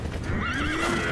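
A horse in the video game Sekiro lets out a loud rising and falling whinny over the clatter of hooves, brief and close.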